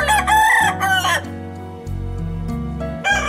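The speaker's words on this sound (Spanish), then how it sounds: "Ahora aparecen los gallos que nos avisan que va a salir el sol" Roosters crowing at dawn in a rural Mexican town, two or three long, loud crows close by, separated by a short gap and set over a steady background of music with sustained low tones.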